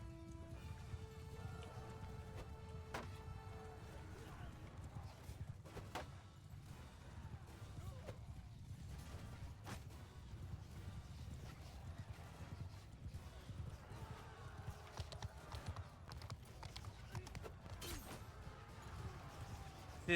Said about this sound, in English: This is gonna be another cavalry rush.